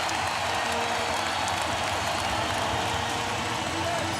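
An arena crowd at the 2000 NBA Finals game between the Lakers and Pacers applauds and cheers steadily as a broad, continuous roar, with a commentator talking over it.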